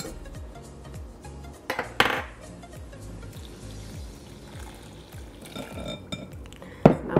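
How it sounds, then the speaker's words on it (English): A whisk beats grain-free tortilla batter of cassava or almond flour with applesauce in a bowl, making a close, rhythmic stream of wet slaps and clicks with a few sharper knocks against the bowl, with no talking. "And whisk it well."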